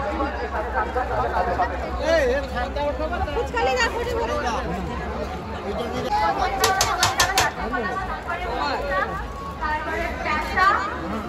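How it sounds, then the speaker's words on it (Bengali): Dense crowd babble at a Poush Sankranti fair in Paschim Medinipur, with many overlapping voices, children's cries and general hubbub that stays loud and unbroken throughout. "ভিড় দেখো ভাই, ভিড় দেখো।"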